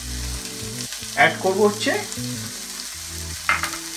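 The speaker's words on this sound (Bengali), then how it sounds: "তার সাথে দেওয়া হচ্ছে পেঁয়াজ কুচি আর তিনটে কাঁচা লঙ্কা" Chopped onions and three green chillies fry with whole garam masala in a pan for chicken yakhni pulao, a continuous sizzle with stirring scrapes while a voice talks over it.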